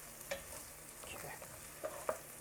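Onions frying in a pot for beef soup as a utensil stirs them, a soft steady sizzle with a few scraping strokes, close and quiet, no talking.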